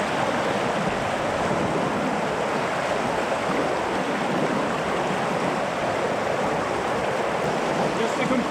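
River rapids rush over rocks on a rocky stretch of river, a loud, continuous broadband roar of churning whitewater with no pauses.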